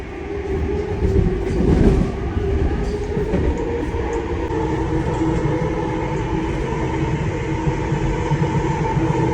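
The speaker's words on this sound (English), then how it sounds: "Train is about to move." A departing train rumbles steadily and loudly, its low mechanical drone and rolling hum swelling briefly at first before settling into a continuous roar.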